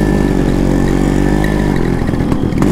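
A Yamaha RX-135 motorcycle is heard while riding, its engine drone loud and close and running steadily, with some rougher bursts toward the end.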